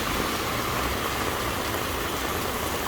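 Steady, dense hiss of rain falls on a street in Taipei, continuous and fairly loud throughout, with no voices.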